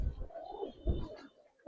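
Old-breed Bagha pigeons coo in low, rounded murmurs, two soft swells rising and fading across a brief stretch, heard close with no talking.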